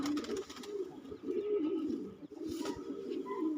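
Pigeons cooing at a loft where a breeder shows off his birds, a steady low throaty murmur running throughout, close and fairly loud, with faint background noise.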